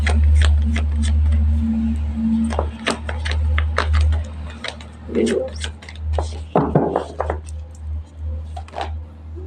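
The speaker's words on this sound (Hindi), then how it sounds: "अभी हम 3 कार्ड और निकालेंगे, फिर इन्हें इकट्ठा में क्लेम करेंगे।" Tarot cards are drawn, shuffled and laid out in quick papery flicks and slides, close to the mic, while a person talks over the handling throughout.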